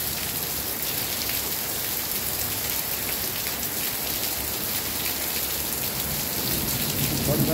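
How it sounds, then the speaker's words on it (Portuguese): A downpour roars evenly, thick rain hammering surfaces on a flooded street in an unbroken wash of noise. "Muita chuva mesmo."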